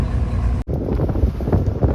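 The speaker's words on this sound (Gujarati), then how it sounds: "અત્યારે પવન બહુ થઈ ગયો છે મિત્રો" Strong wind buffets the microphone on a boat at sea off Porbandar, a loud continuous roar with a momentary cut, no voices heard.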